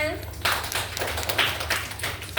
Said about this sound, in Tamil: எல்லாம் கை தட்டுங்க.